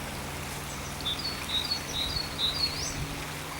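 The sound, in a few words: blue tit calling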